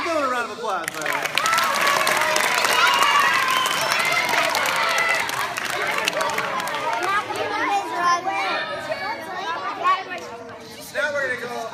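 Audience at a whip demonstration breaking into applause, a dense burst of clapping mixed with crowd chatter and children's voices that gradually thins out.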